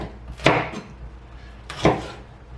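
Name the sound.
knife cutting tip off hot pepper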